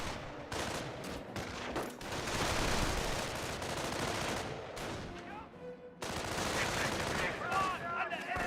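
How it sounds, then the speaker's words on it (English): Grenadiers fire in the World War II strategy game Company of Heroes, with dense bursts of rifle and machine-gun fire, a loud rattling barrage broken by short pauses and a sudden burst of renewed shooting. "Grenadiers put some rounds in the observation post"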